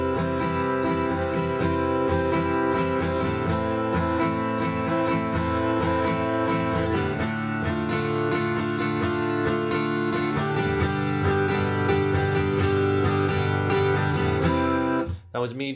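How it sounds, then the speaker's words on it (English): An acoustic guitar plays chords strummed plainly in a steady down, down, up, down, up pattern, two measures per chord, with no hammer-ons or embellishments, bright and close for about fifteen seconds before stopping abruptly. "If I do nothing with the chords but play them straight and not do any of those little rhythmic hammer-ons or variations that I showed you, it'll sound like this."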